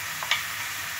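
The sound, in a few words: chopped onion frying in vegetable oil in a pan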